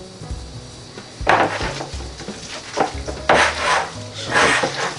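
A salmon burger mixture with Old Bay seasoning is worked by hand in a bowl, heard as irregular squishy stirs and scrapes with occasional knocks against the bowl, close and moderately loud, in uneven bursts.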